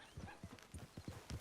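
Horse hooves clip-clop at a steady walking rhythm in the Red Dead Redemption 2 video game, each clear hoof strike evenly spaced and fairly quiet, heard alone without talk.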